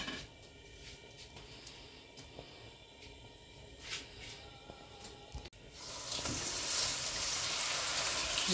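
Fish kofta made from foli fish hisses in hot oil in a frying pan, a quiet patter that swells into a strong, broad sizzle partway through and stays loud to the end.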